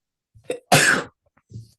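A single sharp sneeze bursts out close by, a short breathy intake just before it and a soft voiced sound trailing after a brief pause.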